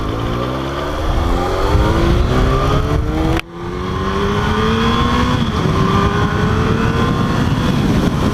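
A motorcycle revs and accelerates hard in rising sweeps, loud and close, with a brief drop in throttle midway before the engine climbs again through the gears.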